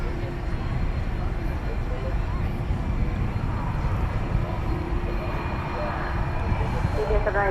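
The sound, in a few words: British Airways airliner flying past at DFW Airport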